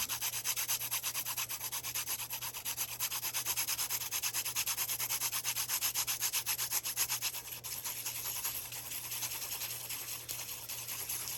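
A pencil is rubbed back and forth while being twisted to sharpen its point, giving a steady, close, fast scratchy sanding rhythm that continues without pause, with a faint low hum underneath and no talking.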